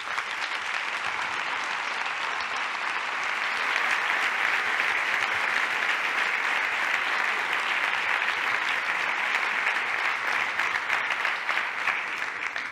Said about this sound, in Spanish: un fuerte abrazo en forma de aplauso